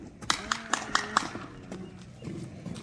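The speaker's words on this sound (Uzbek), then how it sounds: "Angliyaskiy paroda ot mana." Hooves of an English Thoroughbred stallion clip-clop in a quick, regular series of about five close, crisp strikes, then fade into softer movement and faint background noise.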